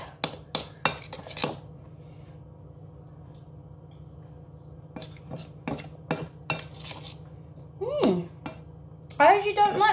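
Cake ball mixture is stirred in a bowl, heard as scattered clinks and scrapes of utensil against the bowl, sparse and close, with a voice briefly at the end.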